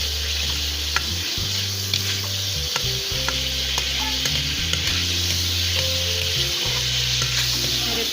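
Potatoes and green chillies fry in desi ghee for a spicy curry, giving a steady, dense sizzle close by with occasional stirring scrapes, no voices.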